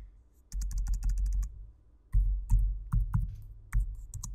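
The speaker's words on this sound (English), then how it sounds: "So I'll type in Monday again." Someone types on a computer keyboard while working in a Google Sheets spreadsheet, giving two short runs of quick, close key clicks over a low hum.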